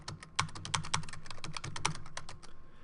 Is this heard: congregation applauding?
no